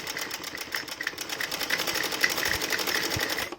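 Sewing machine stitching a dhoti salwar, a steady, rapid mechanical whirring and ticking that runs continuously and close, alone without talk.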